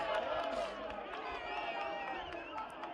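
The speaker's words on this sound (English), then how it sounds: "It is a goal kick, and the home crowd is celebrating that." Home supporters at a Nairobi East Regional League football match roar and cheer in a sustained crowd din after a goal kick, with whoops and scattered clapping.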